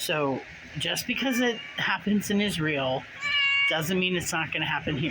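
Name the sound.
cat meowing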